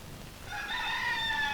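A rooster crows once, a single drawn-out call rising out of quiet background noise partway through and carrying on to the end, fairly faint and at a moderate distance.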